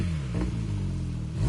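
Racing car engine in Gran Turismo 7, Gr3 class racing, revving continuously with a rising and falling harmonic whine, loud and close throughout.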